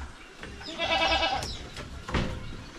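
Goats bleating on a Filipino farm where a carabao calf was just born, a loud wavering bleat up close followed by a second shorter call.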